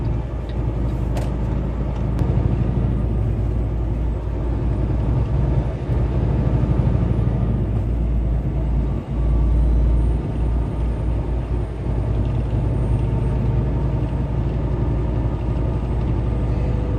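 A car driving down a road past roadside attractions produces a steady, loud low rumble and road drone inside the cabin, unbroken throughout with no voices.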